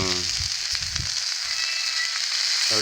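Fish (varagan and jilebi fish) sizzling steadily in hot oil, a continuous close frying hiss with soft bubbling and occasional stirring clatter, no voices.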